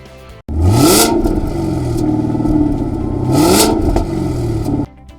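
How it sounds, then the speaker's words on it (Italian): A Cadillac CTS-V V8 roars through two hard revs, loud and close, the engine note sweeping upward each time then settling into a deep rumbling idle between bursts, with no talking. "Alla prima sgasata, la nostra Cadillac produce un ruggito che mette i brividi."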